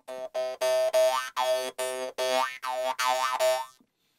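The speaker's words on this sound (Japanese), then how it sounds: "この端っこをこうビヨンビヨンあのつまびくんですよ" A brass jaw harp held to the mouth is plucked about ten times in a steady rhythm, each twang buzzing and wavering in pitch as the mouth shapes it, close and clear.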